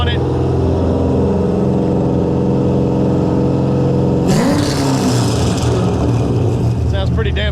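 A C6 Corvette with a full exhaust and long tube headers idles loudly with a deep, steady burble, then swells into a sharp rev partway through before settling again.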